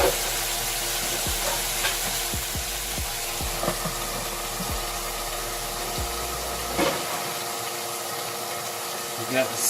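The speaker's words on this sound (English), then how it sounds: "We got the sizzle just right for it." Steak frying in a hot pan gives a steady, dense sizzle throughout, close and loud, with occasional tapping and scraping knocks of utensils against the pan before the hiss carries on alone.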